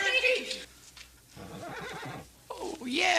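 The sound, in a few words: horse neighing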